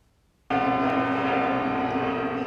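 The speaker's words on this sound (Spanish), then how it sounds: "Las campanas de la Catedral de Toledo repicaban a las 12 del mediodía en señal de alegría" After a brief quiet moment, the large bells of Toledo Cathedral break into loud, sustained ringing at noon that fills the rest of the clip with layered tones.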